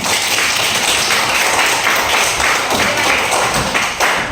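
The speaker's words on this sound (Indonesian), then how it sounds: "Tepuk tangan dulu kita semua" A class of students claps hands together, a dense, loud, continuous patter of many hands sustained throughout without pause.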